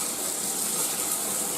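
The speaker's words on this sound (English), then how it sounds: "give the knife a good run under clean water" Tap water runs in a steady, even gush as a carbon steel kitchen knife is rinsed under it, close and continuous with no voices.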